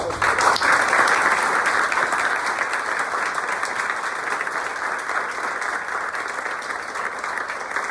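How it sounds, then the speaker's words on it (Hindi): A large audience breaks into loud, sustained applause honoring successful IIT entrance exam students, dense continuous clapping that starts strongest and holds steady for several seconds. "तो जोरदार तालियों से इन लोगों का फिर से।"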